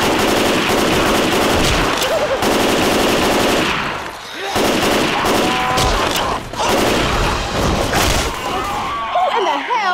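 Rapid, loud gunfire in a Left 4 Dead 2 match: dense automatic bursts crackle almost continuously, with short gaps between volleys and faint background voices.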